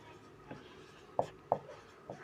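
Pen strokes on paper as a maths equation is written out, a few short scratchy marks with two sharper taps near the middle, close and fairly quiet with no talking.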